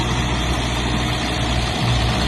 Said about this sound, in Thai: จะเป็นรถขุดขนาดพีซีสามสิบครับผม